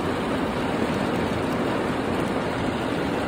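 Heavy rain pours onto a car parked in a parking lot: a steady, dense hiss and drumming that stays loud and unbroken throughout, with no talking.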